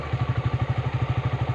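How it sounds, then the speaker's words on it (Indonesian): A Honda Sonic motorcycle rides along a road at night, its engine giving a steady, close, pulsing low thrum with a fast even beat and a constant mechanical buzz, with no voices. "Ini saya menggunakan motor Sonic."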